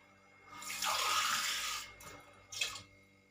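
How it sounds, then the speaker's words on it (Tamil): Water poured into a cooking pot while making Andhra-style cabbage and lentil parupu at home, a close splashing pour lasting about a second followed by a shorter second splash. "ஒரு கிளாஸ் தண்ணி ஊத்திட்டு"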